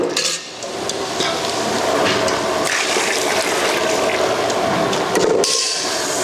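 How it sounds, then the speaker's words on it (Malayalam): Boiled water gushes from a vessel into a pot of prawn biryani, a loud, continuous rushing pour with sloshing and a metallic clink before it stops abruptly. "നമ്മൾ തിളപ്പിച്ച് വെള്ളം വേറെ വെച്ചിട്ടുണ്ട് അതും കൂടി ഒഴിച്ചു കൊടുക്കുകയാണ്"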